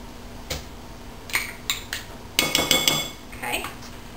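Chopped maraschino cherries folded into a dessert mixture with a utensil, giving several soft clinks and scrapes against a bowl, close and moderately loud, in irregular bursts with no talk.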